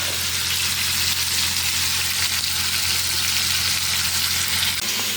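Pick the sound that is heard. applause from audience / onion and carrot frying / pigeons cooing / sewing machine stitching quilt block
onion and carrot frying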